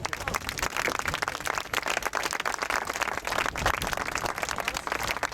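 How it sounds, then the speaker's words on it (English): Applause from an audience at a gathering for the release of the Morong 43 health workers in the Philippines: dense, steady clapping at an even level throughout, with no pauses. "So I would ask an applause for all of them."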